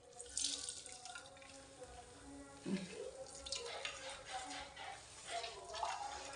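Water trickling and dripping as grated capsicum wrapped in a cloth is squeezed out for parathas, a soft close splashing with intermittent drips and faint talking in the background.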